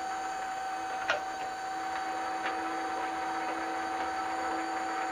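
A Precision Matthews metal lathe runs with its half nut engaged to drive the carriage off the lead screw, giving a steady low mechanical hum with a faint high whine and a few small ticks, no talking.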